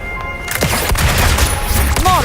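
Gunfire from the video game Wuthering Waves: a dense, continuous volley of shots running almost the whole clip, loud and close, with game sound effects mixed in and no words spoken.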